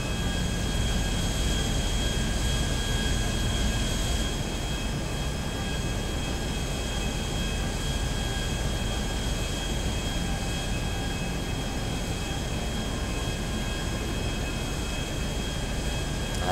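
Airplane engine droning in GTA 5, a steady loud whine with a constant hum running unbroken throughout, no voices.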